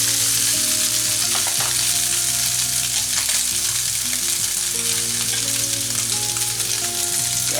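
Pork and chicken for adobo fry in a pan with a loud, continuous close-up sizzle and occasional stirring scrapes, and no one talking over it.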